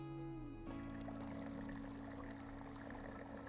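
Freshly mixed liquid poured out of a container after heated mixing, a steady continuous splash and trickle that keeps flowing from start to finish, moderately close and fairly quiet, with a tonal hum underneath.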